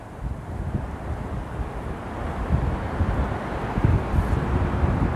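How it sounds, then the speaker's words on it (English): Continuous wind blowing hard across the microphone outdoors in Brooklyn Heights, New York City, a broad rushing roar with low buffeting gusts that swell slightly toward the end. "A little bit windy too."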